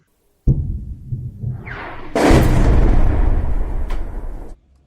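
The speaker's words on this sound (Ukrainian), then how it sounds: "А такі звуки потужних вибухів сьогодні вночі чули мешканці Васильівки" A sharp blast followed by a second, louder explosion at night in Vasylivka, Zaporizhzhia, that rumbles on for a couple of seconds before cutting off, heavy and booming.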